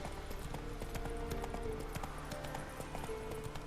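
A horse's hooves clip-clop steadily in The Witcher 3. The trot is fairly faint and continuous, with soft game music and ambience underneath.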